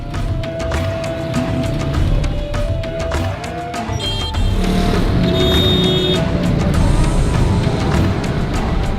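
Busy traffic fills a crowded alley in Lahore, with loud engines and motorbikes passing close by, horn-like tones and a constant rumble of vehicles and street noise.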